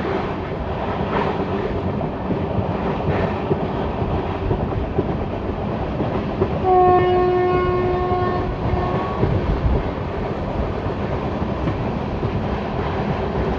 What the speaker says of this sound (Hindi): पहली ही ट्रेन जा रही है और ड्यूरी हाल्ट पर नहीं रुकेगी